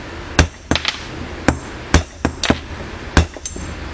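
A hammer striking a part to drive it down on a 1971 Camaro power steering pump, about nine sharp, loud metallic blows at an uneven pace, close up, with no talk.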